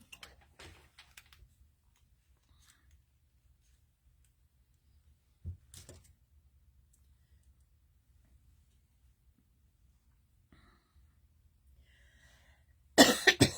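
A single person coughs at a quiet indoor craft table, with several short coughs scattered through otherwise near-silent moments and a louder burst of coughing at the end.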